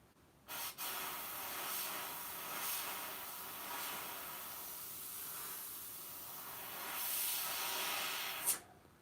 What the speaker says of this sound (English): I'm going to bust out my other airbrush that doesn't have a white color in